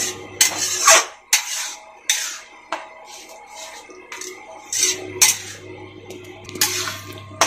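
Tomato chutney being stirred in a cooking pot, with close, sharp scrapes and clinks of a utensil against the metal in irregular bursts, some pauses in between, and a faint low hum at times, with no talking.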